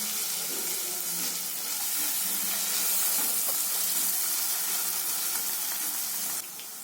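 Ginger, garlic and chopped carrots fry in a pan on a low flame, a continuous loud sizzle with crackling and scraping stirs, easing slightly at the very end.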